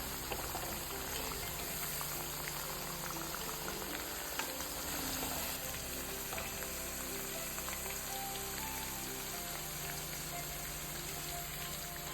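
Sliced raw nendran banana, soaked in turmeric-salt water, fries in hot oil for chips, giving a steady dense crackling sizzle with faint popping that stays even and unbroken throughout, with no voices.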